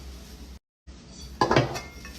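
Pots and pans clank and clatter as they are handled in a kitchen, with a short silent gap and then a louder burst of metallic clinking.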